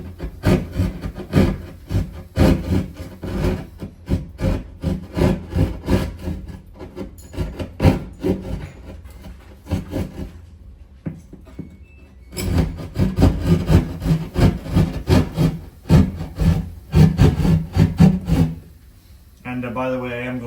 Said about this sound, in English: Could use an oscillating saw, or I'll just use a drywall knife.